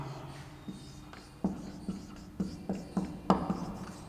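Chalk tapping and scratching on a board as a heading is written during a chemistry lecture, with irregular short strokes and taps, close and moderately loud, without speech.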